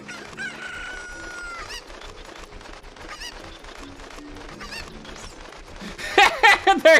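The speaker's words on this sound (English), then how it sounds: "Chickens at dusk." Chickens cluck and a rooster crows in the Ocarina of Time game at dusk, over a quiet, light backdrop, and the loudest crowing bursts come near the end.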